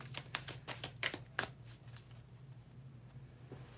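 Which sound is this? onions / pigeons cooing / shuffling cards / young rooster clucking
shuffling cards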